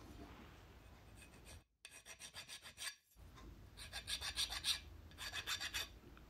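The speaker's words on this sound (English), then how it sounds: "I put it back in the vise and file it up to make it nice and square" A file rasps across metal clamped in a vise, squaring up a part for a handmade Honda RC374 six-cylinder replica: close, rhythmic back-and-forth strokes in two runs separated by short pauses, with no talk.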